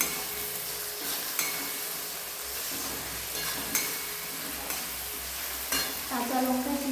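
Tomato masala with ginger, turmeric and green chillies frying hard in a pan for a mixed-vegetable khichdi: a loud, dense, continuous sizzle with occasional spoon scrapes, heard up close and alone.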